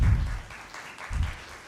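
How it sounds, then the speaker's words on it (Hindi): Applause rises in two brief swells as guests come on stage at an Urdu literary event, heard at moderate level. "आपकी भरपूर तालियों में"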